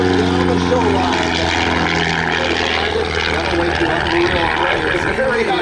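A Christen Eagle aerobatic biplane flies past at an air show, its propeller engine droning and shifting pitch continuously while an announcer talks over it.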